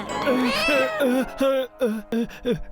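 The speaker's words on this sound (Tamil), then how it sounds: "மாமா, அது பல்லாங்களோட பூனை" A cartoon cat meows in a series of short, pitched, whiny cries, about half a dozen in quick succession, close and clear with a bright, voice-like tone.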